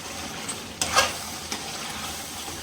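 Onions fry in a pot with a steady, moderate sizzle, broken by a louder hiss and clatter of stirring near the start and a softer one later.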